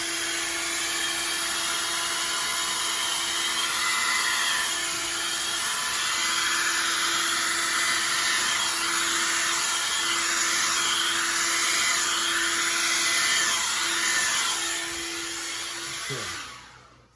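A hair dryer-style blower pushes a steady, loud stream of air across a tilted resin pour with cell activator, a continuous whoosh with a faint steady hum beneath it that cuts off near the end.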